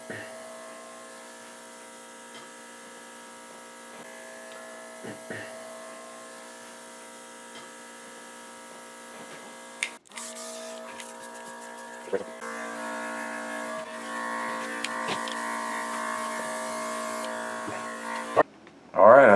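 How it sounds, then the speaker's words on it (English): A small handheld battery-powered airbrush sprays paint onto a Breyer Stablemate model horse, giving a steady thin motor buzz that continues with a brief break and shifts louder near the end, with no talking. "Now, I have another airbrush here that we could use."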